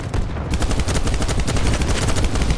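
Sustained covering gunfire in BattleBit Remastered, a dense, loud run of rapid automatic shots layered with overlapping reports and no break across the whole stretch.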